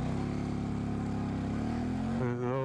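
A modified Honda Grom motorcycle pulling away and accelerating, its engine tone climbing steadily and then shifting up into a higher whine, loud and close throughout.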